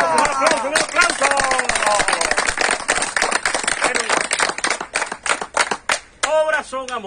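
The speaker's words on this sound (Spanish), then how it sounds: "¡Un aplauso!" A crowd at an outdoor well reinauguration event bursts into dense, sustained applause that thins toward the end, with voices and cheers mixed in.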